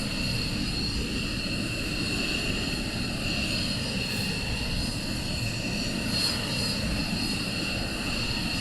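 Military jets prepare for departure at RAF Lakenheath, a continuous distant engine whine with steady high tones over a low rumble, heard alone in windy conditions.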